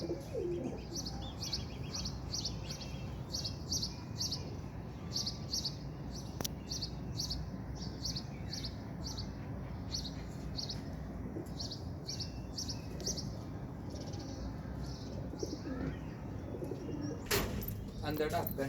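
Pigeons softly cooing and chirping at close range in a steady, repeated pattern, with faint background noise and a sharp click near the end.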